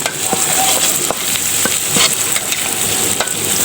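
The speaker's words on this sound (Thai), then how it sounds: "เราจะเอาไก่ไปขัวใส่" Steady sizzling of chicken stir-fried with bell peppers in a hot pan, with the scrape and clatter of a utensil tossing the pieces at irregular intervals, close and loud.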